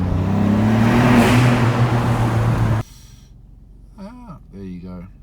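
A Ford Fiesta ST Mk8 with Revo Stage 1 tune idles with a steady low rumble, then cuts off abruptly partway through, leaving quiet cabin air and a voice speaking.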